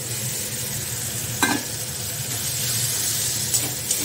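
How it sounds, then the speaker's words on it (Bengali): Roasted sattu (gram flour) being stirred into a spice mix frying in a pan, a continuous soft sizzle with a brief scraping stir near the middle and small clinks toward the end, close, without talk. "এবার মশলার মধ্যে ঢেলে দেবো ছাতুটা"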